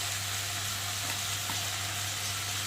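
Vegetables fry in a hot pan with a continuous, even sizzle and a low steady hum underneath, close by and without talk.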